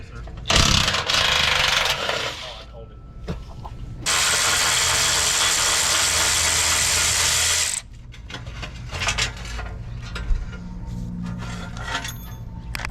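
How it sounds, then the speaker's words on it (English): A pneumatic impact wrench rattles in loud, harsh bursts during work on a Ford Bronco frame for an off-road crash bar kit; a short burst is followed by a longer one of several seconds, then quieter clanks and shop noise. "You hear the wrench back there?"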